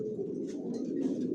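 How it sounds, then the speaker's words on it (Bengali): Racing pigeons of a Johnson long-distance line coo softly and continuously inside their loft, a low, close, steady murmur with no speech. "আমার লফটে সব লংয়ের কবুতর পালি।"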